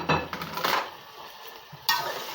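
Minced meat keema with two large chopped tomatoes is stirred in a pot, giving scraping spoon strokes against metal over a soft sizzle, close and in uneven bursts, with no talking.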